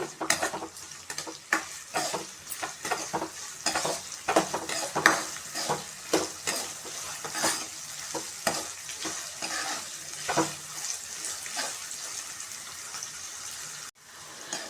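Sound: frying onions until golden for tomato chutney

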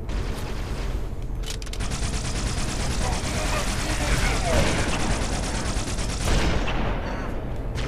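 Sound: gunfire in a video game

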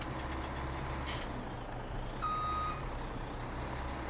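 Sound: Volvo vehicle reversing beeps in Farming Simulator 17 video game

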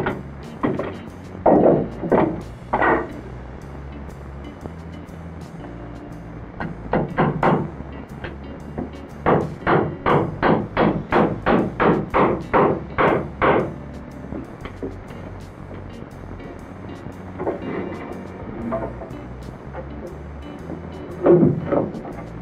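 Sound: hammer toenailing wooden joists into a beam

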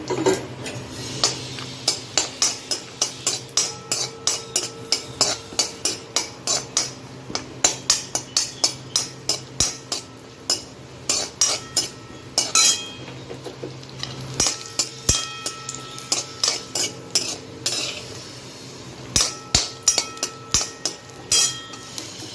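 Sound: roasting cashew nuts in a pan

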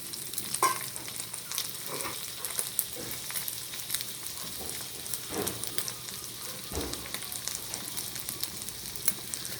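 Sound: stir-frying ham, sausage and shrimp in a pan

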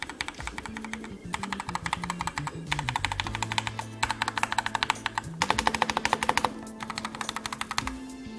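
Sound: typing on quiet mechanical keyboard

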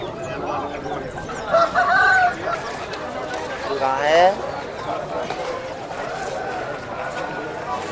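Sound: roosters and hens at a market, rooster crowing

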